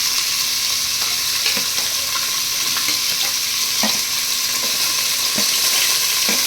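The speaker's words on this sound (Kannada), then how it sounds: "ಎಲ್ಲ ಹಾಕ್ಕೊಂಡು ಚೆನ್ನಾಗಿ ಫ್ರೈ ಮಾಡ್ಕೊಬೇಕು" Carrots, beans and chopped fenugreek leaves fry in oil in a pan, a loud, steady sizzling hiss with a few scattered clicks of stirring, no voices.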